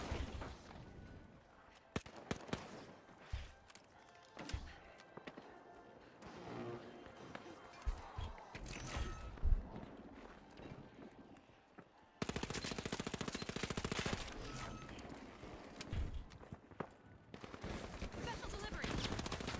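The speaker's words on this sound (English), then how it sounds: "Why is this guy just shooting random shit and not fighting?" Rapid bursts of automatic gunfire from The Finals video game crackle throughout, mixed with footsteps and other game effects, turning into a louder, denser stretch of shooting partway through.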